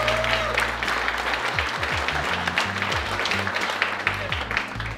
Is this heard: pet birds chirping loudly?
no